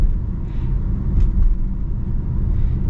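Supercharged V8 of a Range Rover Sport SVR in dynamic mode, a deep steady rumble with a low, throaty drone that rises slightly and holds.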